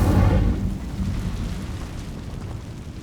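An Incendio fire spell in Hogwarts Legacy bursts with a loud, whooshing roar at the start, then fades into a low, rumbling crackle that trails off over a few seconds.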